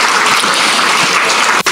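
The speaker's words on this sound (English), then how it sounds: "I want to give a round of applause real quick to Ishmael and our helpers." Crowd at a Somali community festival in Columbus breaks into loud, dense clapping that carries on evenly, with no voices over it.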